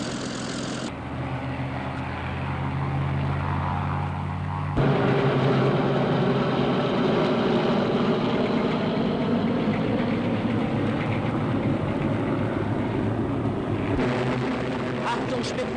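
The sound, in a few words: Spitfire propeller aircraft engine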